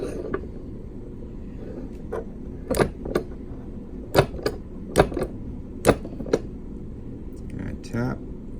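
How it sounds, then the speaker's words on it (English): A 1954 silver quarter is tapped into a holder and rotated to seat it level for ring making. Sharp, irregular metallic taps and clicks land close by, about a dozen spaced over a quiet background hum. "I tap and I rotate to try and make sure the coin is in there as level as possible"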